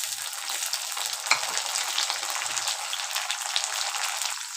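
Sliced tomatoes and browned onions fry in hot oil, giving a bright, continuous hiss and fine crackle that stays close and even throughout, with no talking.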